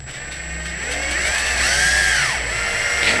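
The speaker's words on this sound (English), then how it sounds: "So let's go ahead and get those screwed in." A power drill runs steadily, driving hinge screws into the frame of a plantation shutter, its motor whine rising and bending in pitch as the screw seats, loud and close with no talking.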